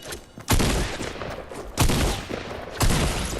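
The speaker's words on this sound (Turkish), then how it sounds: "Vuruyorum vuruyorum." Fortnite gunfire rings out in three loud, close shots spaced about a second apart, each with a short ringing tail that fades before the next blast.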